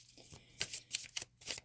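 Tarot cards being shuffled by hand, a quick series of soft crisp riffles and flicks, close and quiet, with no talk.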